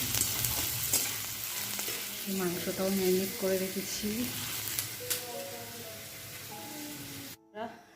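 Food sizzles in a hot pan in a home kitchen while a spatula stirs and scrapes through it, with someone talking over the frying for much of the time.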